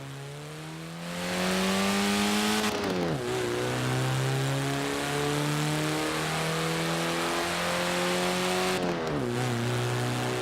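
A Forza Horizon 4 car engine revving loudly and continuously, pitch climbing and dropping sharply twice as it shifts gears, with no talking.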